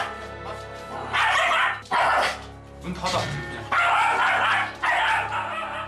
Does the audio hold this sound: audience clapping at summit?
no